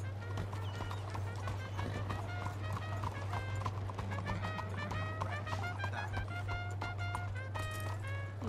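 Horse hooves clip-clop steadily across the ground in Red Dead Redemption 2, a brisk rhythmic patter close by over a constant low background hum, with faint game music tones layered above.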